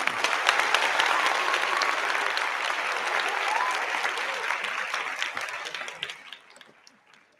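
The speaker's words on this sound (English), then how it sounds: "I'll give you applause." Applause sound effect during a live talk stream: dense, loud clapping from the start, holding steady for several seconds before thinning and fading out near the end.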